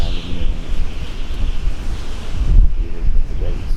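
River current flowing beneath the Maygatasan bridge at night, a steady, loud rushing wash mixed with wind buffeting the microphone.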